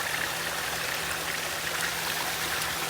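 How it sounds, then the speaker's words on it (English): Water rushes steadily through a gold prospecting sluice as rocks are washed, a continuous close hiss of flowing water with no voices. "And we're washing rocks."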